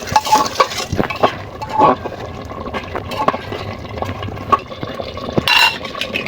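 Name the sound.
cut potatoes added to the beef pot for biryani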